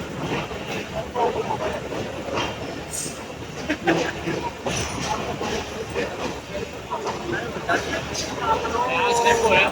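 Passenger train travelling from Karachi to Gujranwala in hot weather, a steady rumbling ride with faint rhythmic rail clatter and hiss running throughout, rising slightly toward the end.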